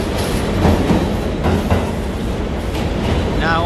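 Loud, close rumble of an NYC subway R46 train rolling past on the N/W lines, with repeated wheel clacks over joints and a faint squeal rising near the end.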